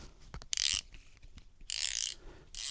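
Drag clicker on a Loongze A101 lure fishing reel buzzes in three bursts of rapid ratcheting clicks, close and fairly faint, with small handling knocks between them and no talking.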